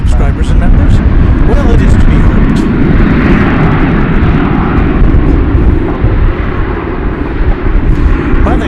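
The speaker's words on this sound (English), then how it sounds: "is an Airbus A321, and it's headed off to Los Angeles" An Airbus A321 airliner at DFW Airport bound for Los Angeles sends out a steady, loud jet engine roar that holds through the whole stretch, with faint voices under it.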